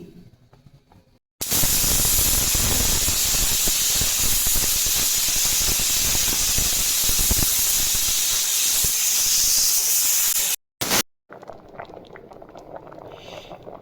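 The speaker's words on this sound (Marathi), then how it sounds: "आता मी कुकरला झाकण लावून घेते" A pressure cooker with its lid closed hisses steam loudly in a strong, continuous rushing burst lasting about nine seconds before cutting off abruptly, with quieter kitchen sounds on either side.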